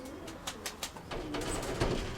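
Soft, low cooing from a large steel-coloured white-tailed pigeon repeats a few times, close by, with faint fluttery chirps and light background noise.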